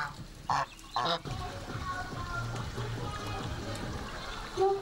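Geese honk loudly in a couple of quick bursts nearby while being fed, followed by busy chatter of people and more honking close at the end.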